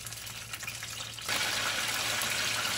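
Banana fritter batter frying in oil over low heat for a crispy coating, a steady loud sizzle close up that suddenly grows stronger and brighter partway through, with no talking.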